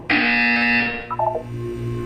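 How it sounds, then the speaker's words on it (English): A loud, close buzzer in the Portal 2 video game holds a harsh, steady tone for about a second, then gives way to a short warbling electronic blip and low hum. "You will hear a buzzer."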